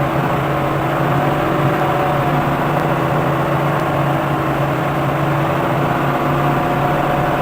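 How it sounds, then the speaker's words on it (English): A 2015 Fleetwood Flair 26E motor home engine revs up to about 2000 RPM, a steady, loud, continuous drone heard from the driver area with no voices over it. "I'll accelerate to 2000 RPM now."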